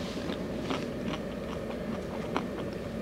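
Close, crisp crunching of Smartfood Snickerdoodle popcorn being bitten and chewed, a dense run of small cracks and crackles lasting a few seconds with no talking.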